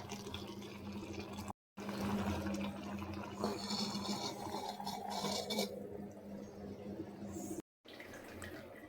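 Water is poured from a tumbler into a cooking pot of rasam on the stove, a soft steady splashing and trickling close by that runs for several seconds, with a brief break.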